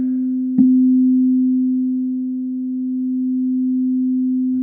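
Two 256 Hz tuning forks struck together, heard near a microphone in a physics lecture: one sharp strike settles into a steady pure hum whose loudness slowly swells and fades as the tones beat, with no talking.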